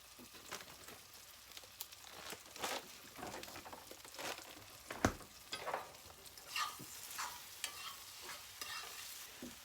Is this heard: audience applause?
no